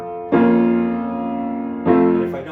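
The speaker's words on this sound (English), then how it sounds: "That 4 minor over 1 sounds like this" Two sustained chords of a 4-minor-over-1 progression ring out one after the other, the second entering near the end, full and steady with no voices.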